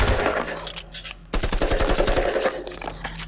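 Rapid bursts of automatic AK-style rifle fire in the Fortnite video game, two close, loud strings of shots separated by a brief pause.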